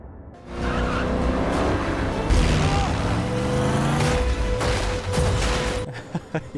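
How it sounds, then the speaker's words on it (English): Film car stunt: a roaring engine and long squealing tire skid carry on for several seconds, loud and close, with a steady rising tone and scattered bangs, then a few sharp impacts as it fades out. "nice car stunt right there."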